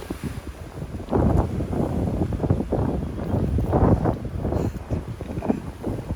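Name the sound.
wind blowing on a fishing boat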